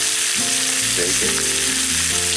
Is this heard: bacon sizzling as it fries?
yes